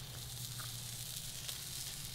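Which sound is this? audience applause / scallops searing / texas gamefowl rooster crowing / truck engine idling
scallops searing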